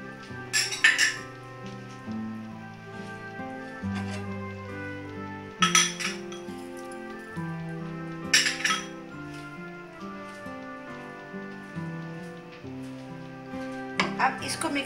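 Spices and yogurt going into a cooking pot for dhaba-style chana, heard as repeated clinks and scrapes of a spoon or utensil against the pot, spaced a few seconds apart, over a steady musical background.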